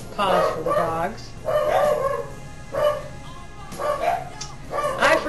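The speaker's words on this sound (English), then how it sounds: "Pause for the dogs." Several dogs bark repeatedly in bursts, loud and close, with yips and whimpering between barks and a low background hum.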